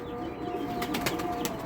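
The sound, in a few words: pigeons cooing and flapping on a rooftop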